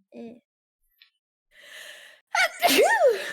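A single loud, sharp sneeze follows a quiet intake of breath and a short sigh, close by in an otherwise silent room.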